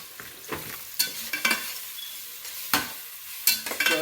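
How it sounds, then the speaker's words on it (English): Seasoned rice with garlic herb seasoning sizzles gently in a frying pan as a utensil stirs it, a few distinct scraping strokes over a quiet, steady fry. "Stir it around a little bit like that."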